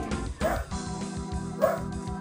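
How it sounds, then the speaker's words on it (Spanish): A dog barks twice close by, with sharp yips about a second apart over a low hum. "Disculpad por lo del perro que está aquí"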